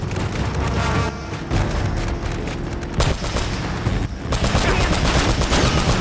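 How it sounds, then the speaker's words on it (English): Heavy gunfire in the video game Uncharted: Drake's Fortune: dense, continuous bursts of rapid shots and booming impacts that fill the whole stretch and stay loud throughout, with brief dips between volleys. "Keep shooting, Nate. Keep shooting."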